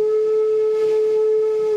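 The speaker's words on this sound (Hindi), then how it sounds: "सीटी बजाती हुई ट्रेन और धुआं छोड़ता हुआ" A steady, loud tonal train whistle from an Indian railway train, a single sustained blast holding one pitch for the whole stretch with no voices.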